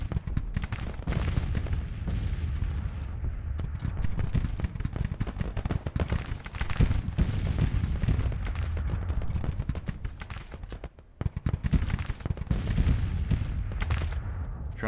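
Civil War artillery and musket fire rumble through a battle in the strategy game Grand Tactician, a dense, continuous barrage of booms and crackling volleys, loud and unbroken with no talk.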